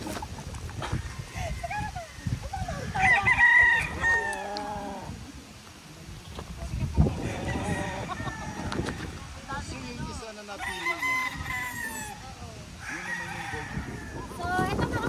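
A stag rooster at the Triple LLA game farm crows in several drawn-out calls among other birds and animal noises, with people talking over and between the crows.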